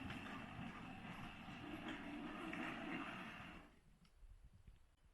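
A model train at an exhibition layout rumbles and clatters steadily as it moves into the staging yard, then the running noise drops away, leaving faint clicks and light rattles.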